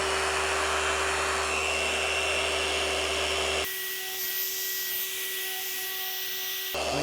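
A Harbor Freight Hercules 3-inch DA polisher running on speed 3 against car bodywork, a steady loud whirring drone with a constant hum whose tone shifts partway through, close and continuous, no talking.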